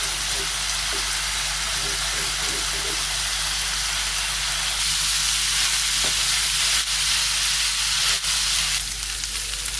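Steady loud sizzling of pork with spices frying in a pan for chili con carne, close up, a continuous hiss with faint clicks and a low hum underneath.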